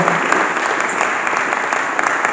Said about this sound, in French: Les applaudissements sont timides